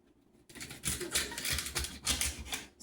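A knife cutting celery sticks in half on a board in a home kitchen, a run of crisp, crunchy chops close up, fairly quiet, with no speech.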